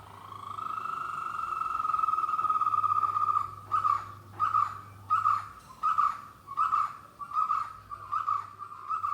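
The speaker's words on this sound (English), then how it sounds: "It is a beautiful little bird named white-cheeked barbet." A white-cheeked barbet calls outdoors: a steady, monotonous trill runs for several seconds, then breaks into a run of about eight evenly spaced, loud, repeated notes, close and clear with no talk.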